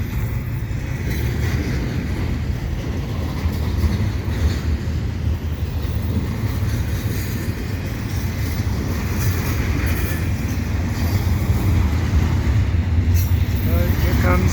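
A Canadian Pacific freight train passes at Dorval with its distributed power unit, an AC4400CW locomotive. It gives a loud, steady rumble and roar of wheels and cars that continues throughout with no clear breaks.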